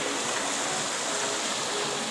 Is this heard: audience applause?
no